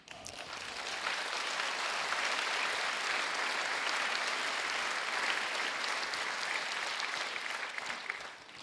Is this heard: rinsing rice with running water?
no